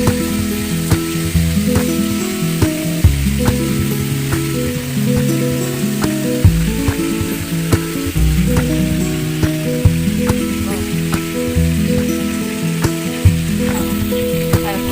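Chicken frying in a pan for a chicken roast sizzles loudly and continuously, with rhythmic low droning pulses and occasional clicks running underneath.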